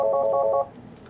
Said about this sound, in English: simply press the buttons to set the desired ringer level